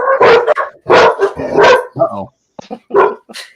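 Dogs bark and yip indoors in a house, several loud, close bursts in an uneven run, mixed with a person speaking briefly.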